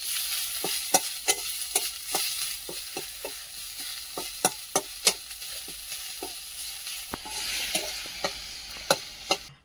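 Garlic sizzles in a hot pan for muri bhuguni while a spoon stirs and scrapes, sharp clinks recurring every half second or so over a steady frying hiss, close up with no talking.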